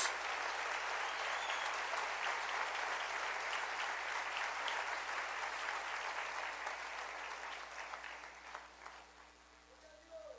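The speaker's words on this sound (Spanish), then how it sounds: "Denle un aplauso al Rey y animémonos." Church congregation applauding, a long steady roar of clapping that fades gradually over ten seconds, heard at a slight distance with a low hum beneath.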